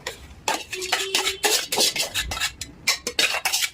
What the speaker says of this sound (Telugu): ఇదంతా ఇలా కలిపేసుకోవాలి